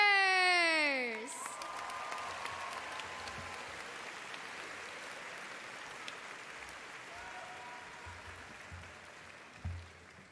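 Steady applause from a crowd at a high school graduation ceremony, following a fading musical tone at the start and continuing at a moderate, distant level, with a few louder bumps near the end.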